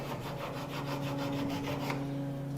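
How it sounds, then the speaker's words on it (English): A drywall saw works a Bowie knife handle blank in steady back-and-forth strokes, close and fairly loud, with a constant tonal hum running underneath throughout. "drywall saw."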